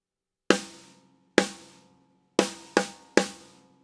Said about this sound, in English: the snare drum, which at this point should be the drum that sits right in front of you and sounds like this.